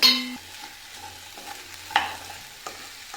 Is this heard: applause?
no